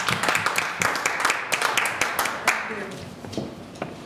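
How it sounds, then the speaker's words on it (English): An audience claps warmly for a school board trustee, a dense burst of many hands that is loud at first and then thins and fades over a few seconds, with no talking. "So give her a round of applause."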